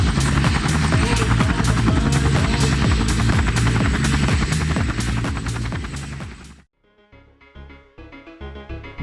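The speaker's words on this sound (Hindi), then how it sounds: "और हेलीकॉप्टर ने टेक ऑफ किया।" A cartoon helicopter takes off and flies with loud, rapid, rhythmic rotor thumping over a whirring engine, then cuts abruptly to quieter sounds.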